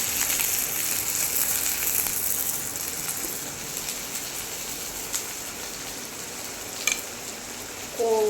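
Onions browned in a pan with chopped tomato just added, a steady broadband sizzle and crackle of frying close by, continuous with a few sharper pops and a brief clink near the end.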